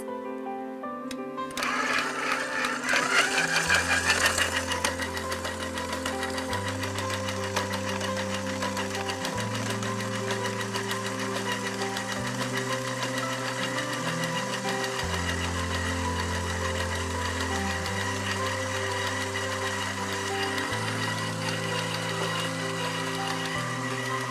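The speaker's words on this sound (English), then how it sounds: "We recommend for dough making to use the stand mixer at speed 6." Motor of a KitchenAid stand mixer runs at speed 6 while kneading dough, a steady close whirring drone with a slightly rhythmic, labored pulse as the load shifts, starting after a brief quiet moment and continuing without interruption.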